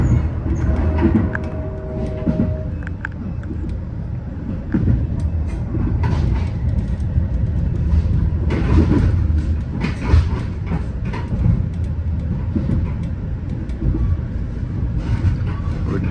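A Metra commuter train on the Elgin subdivision near Chicago rolls steadily along the rails with a continuous rumble and faint clicking, heard from inside the carriage.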